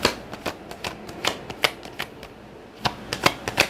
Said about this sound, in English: Let me pull a card and pull a couple cards on these